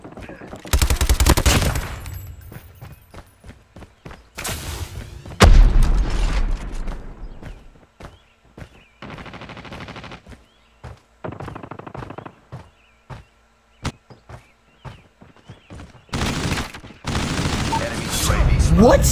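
Gunfire in a shooter video game: loud bursts of rapid automatic fire and single shots with mechanical clicks, broken by quieter gaps and some talking.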